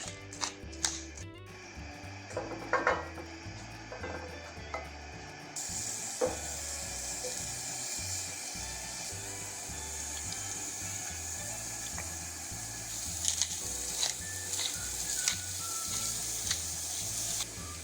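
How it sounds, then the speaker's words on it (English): Macrocybe titans mushroom dressed with olive oil, salt and pepper sizzles steadily on a grill, a continuous close hiss with a few sharper crackles and clicks, over a low rhythmic background hum. "So a little bit salt, a little bit pepper, olive oil, and let's grill."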